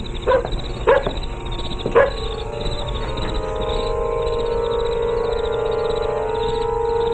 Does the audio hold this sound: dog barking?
yes